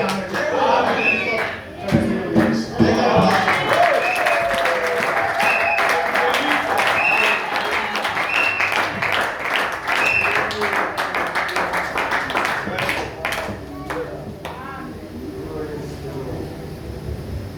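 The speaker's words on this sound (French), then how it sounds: "Acclamons très fort." A church congregation applauds, with sustained, dense clapping that stays loud throughout and voices calling out over it, tapering slightly toward the end.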